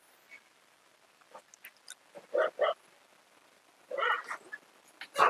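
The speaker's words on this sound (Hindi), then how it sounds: "डॉग भौंक रहा है, देख लिया किसी को।" A dog gives a few short, sharp barks at a distance, in two clusters separated by a pause, over a quiet background.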